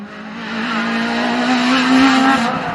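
Peugeot 106 Kit Car rally car roaring past at high revs, a steady loud engine drone that swells slightly toward the end, heard alone with no talk.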